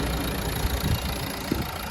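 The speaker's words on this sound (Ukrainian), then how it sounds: "Двигун, до речі, працює чудово." A Renault Megane with automatic transmission idles with a low, steady rumble, continuous throughout.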